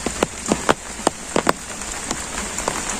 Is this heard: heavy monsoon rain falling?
yes